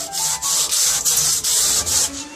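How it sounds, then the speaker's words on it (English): A blade scrapes back and forth over old silicone on a leaking glass aquarium, giving rapid rhythmic rasping strokes, about seven in quick succession, loud and close with no voices. "I'm hoping to do this to score it so that there's at least some rough surface for the silicone to grab on"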